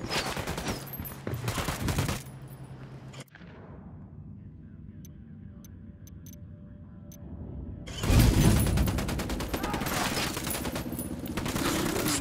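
Gunfire in the Ghost Recon Wildlands video game crackles in dense, loud volleys, then drops to a quieter stretch with a lingering rumble before heavy bursts return; no one speaks.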